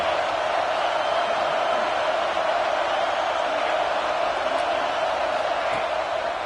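A roaring college football stadium crowd at a game between Ohio State and Rutgers, a steady dense wall of cheering and noise that holds level throughout with no distinct voices on top.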